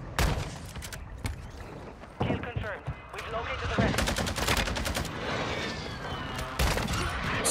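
Rapid gunfire in a video game sniper fight: dense bursts of shots and automatic fire, loud and close, with a voice talking over much of it.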